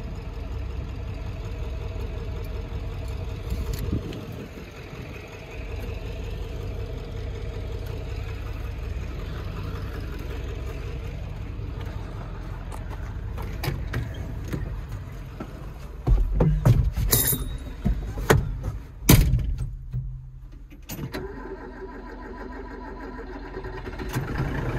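A 7.3 Power Stroke diesel truck engine idles with a steady, rough low rumble, broken near the end by a few louder knocks and bursts and a brief drop-out.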